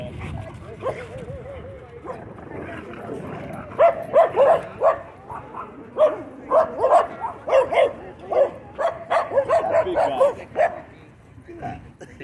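A Great Dane and a Giant Schnauzer bark and yip at a dog park, loud rapid bursts of barking with whimpers, mixed with people talking nearby.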